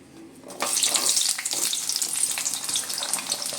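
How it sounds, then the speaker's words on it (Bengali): Garlic, onion and green chilli hit hot mustard oil with a sudden loud sizzle after a brief quiet moment, then keep frying in a bright, crackling hiss up close. "খুব ভালো করে রসুন, পেঁয়াজ, কাঁচা লঙ্কাটা একটু ভেজে নেব।"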